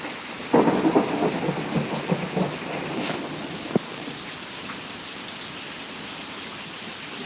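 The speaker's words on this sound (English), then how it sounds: "That was the thunder." Thunder from a thunderstorm in Pittsburg, Kansas rolls in as a loud rumbling burst over steady rain, then fades into a softer drawn-out grumble beneath the ongoing patter, no talking.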